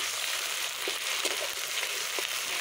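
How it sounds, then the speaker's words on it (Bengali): A paste of ginger, garlic, cumin and red chilli fries in hot oil, making a steady, even sizzle that stays constant throughout with no talk. "এই মশলাটা আমি একটু কিছুক্ষণ কষিয়ে নেব"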